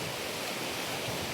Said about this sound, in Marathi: हा तिथे एक धबधबा आहे.